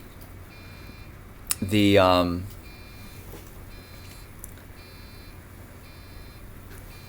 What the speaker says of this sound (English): hopefully that beeping will go